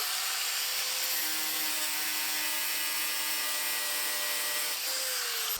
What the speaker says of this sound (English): I'm just gonna grind the welds down now